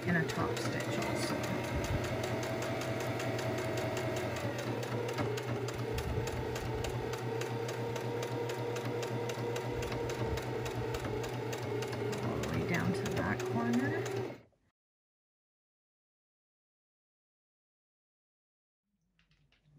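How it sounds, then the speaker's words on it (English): A sewing machine top stitches along the edge of a reinforced fabric face mask, a fast steady mechanical chatter that runs for about fourteen seconds and then stops into silence. "Now you're gonna come back along this edge in a top stitch also."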